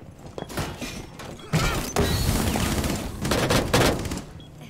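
Bursts of rapid gunfire in the tactical shooter Rainbow Six Siege, sharp repeated shots in clusters with louder sustained volleys in the second half, mixed with mechanical clatter.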